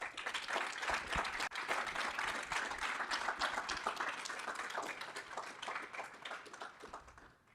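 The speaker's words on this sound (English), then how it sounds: "A round of applause." An audience at a 2022 pitch competition claps in a dense, steady round of applause for several seconds. It tapers off softly at the end.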